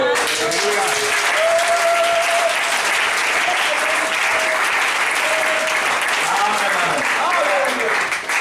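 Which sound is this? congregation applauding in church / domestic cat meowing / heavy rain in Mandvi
congregation applauding in church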